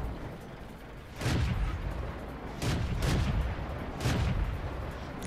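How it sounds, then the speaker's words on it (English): Three heavy tank cannon shots from World of Tanks, fired at an enemy Panzer III/IV, each a loud broadband boom with a long rumbling decay, spaced roughly every one and a half seconds over steady battlefield ambience. "we're just going to start putting shots into him"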